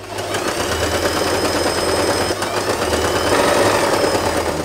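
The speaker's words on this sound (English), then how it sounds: "we are going to sew all along the edge, right here" A sewing machine stitches along the edge of satin fabric for a hair bow, giving a loud, steady, continuous mechanical whir with a fine rapid rattle throughout.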